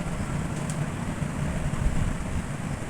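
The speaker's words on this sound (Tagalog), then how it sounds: "lakas ng hangin yan o" Strong storm wind during a thunderstorm with lightning roars and buffets continuously in a dense, low rumble, gusting slightly louder near the end, with no voices.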